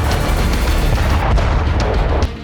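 Explosion in war footage of Russian soldiers advancing on a building in Ukraine: a loud, dense boom and rumble fills the whole stretch, with a few sharp cracks near the end.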